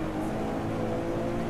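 An Aston Martin V12 Zagato racing in the video game Driveclub, its engine droning as a steady, moderately loud hum throughout the short stretch, with no voices.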